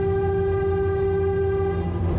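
A Királyrét narrow-gauge railway train in the Börzsöny hills of Hungary, nearly 40 tonnes with its car, sounds a loud, sustained horn note over a steady rumbling engine and wheel noise, close by.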